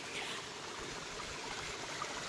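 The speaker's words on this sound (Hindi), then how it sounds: "अब ये पानी यहाँ से सीधे जा रहा है" Water flows steadily through the channel of a Himalayan gharat watermill in Uttarakhand, a continuous close rushing wash with no voices.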